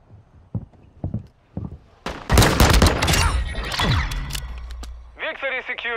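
Gunfire in the shooter Call of Duty: Modern Warfare II: a few scattered shots, then a loud dense burst of firing with a falling whine, followed by chattering sounds as voices talk nearby.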